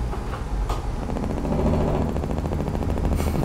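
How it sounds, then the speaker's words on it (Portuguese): Truck engine brake in American Truck Simulator, a loud, fast, rapid-fire staccato chatter pulsing steadily over a deep engine rumble for several seconds. "Olha o som, cara, do freio motor."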